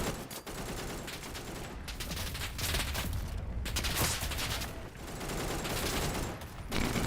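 Gunfire in a first-person shooter video game on a foggy map: dense, loud, sustained volleys of rapid automatic shots that barely let up across the whole stretch, with no talking.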